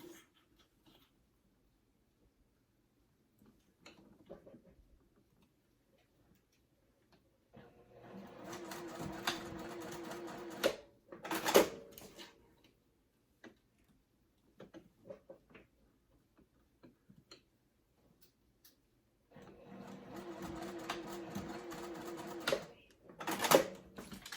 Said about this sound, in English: Pull it out once your presser foot is down, and then stitch that